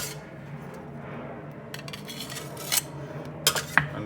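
A spatula swipes excess chocolate soufflé batter off the rim of an overfilled ramekin, giving a soft low scraping, then a few light clinks and taps of metal on ceramic near the end, close and fairly quiet.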